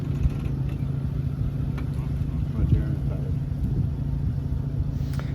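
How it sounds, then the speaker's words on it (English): Stuck Jeep Wrangler on a steep, muddy slope, its mud-packed tires spinning without grip under a steady, low engine rumble, fairly close and continuous. "His tires are still packed with a lot of mud, so he just spinning tires"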